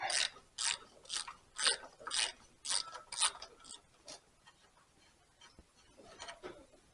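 A ratchet wrench clicks in quick, loud bursts while backing a manifold stud out of a 1938 Allis Chalmers B tractor, with several strong ratcheting runs early on and softer, sparser clicks trailing off toward the end.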